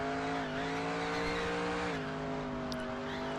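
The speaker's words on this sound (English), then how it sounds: "the tires are screaming through that turn" A race car in NASCAR Racing 2003 holds a steady, loud engine drone through a turn, with a slight pitch dip midway and a gritty tire squeal layered over it, no talk.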